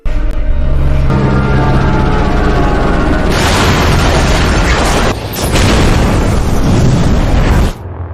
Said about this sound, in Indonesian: helikopter yang dikendari oleh pilot tadi jatuh ke mansion, menyebabkan ledakan yang sangat besar